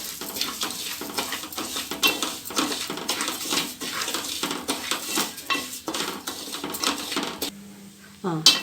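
Wheat semolina is stirred with a spoon in a pan while making laddu. Quick, uneven metallic scrapes and clinks repeat up close, with a faint sizzle underneath.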